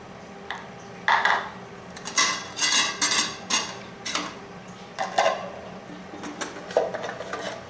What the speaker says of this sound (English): My cook set that I'm taking is a Stanley cook pot. Comes with 2 of these bowls.